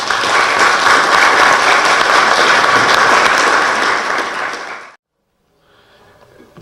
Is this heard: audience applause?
yes